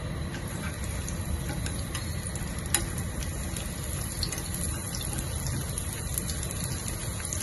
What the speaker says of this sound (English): Now we shall fry the lemongrass for the fragrant oil.